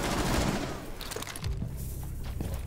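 Gunfire in the video game Rainbow Six Siege, with a dense burst of loud shots at the start that fades into a lingering rumble and a few scattered impacts.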